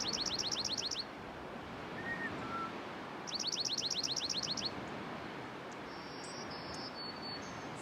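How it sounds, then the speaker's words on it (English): A small bird perched in a tree on a provincial nature reserve gives two bursts of rapid, evenly spaced high chirps over a steady wash of outdoor ambience with insect buzz. "This little guy just flew right up here."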